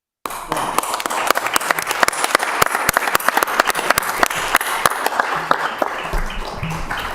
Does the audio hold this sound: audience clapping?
yes